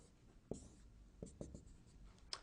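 A pen writes the Greek letter rho on paper: faint, close scratching with a few short, crisp strokes and taps spread out in a quiet room.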